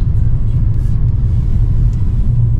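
A family car drives along with a steady, loud low rumble of engine and road noise inside the cabin, with no clear change in pace.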